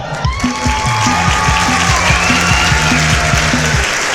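A crowd of wedding guests claps in a dense burst, close and steady, with music and a few voices underneath.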